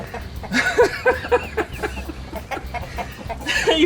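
Chickens cluck in a rapid, uneven series of short calls, close and moderately loud, over steady low background noise outdoors beside a modified KT196 go-kart.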